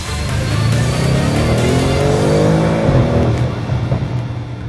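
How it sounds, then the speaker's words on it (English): An Audi RS6 with a V8 and sports exhaust revs hard, its deep engine note climbing in pitch and then dropping back over several seconds, loud and close, with no one talking over it. "One only recognizes its worth when the sports exhaust starts to sing."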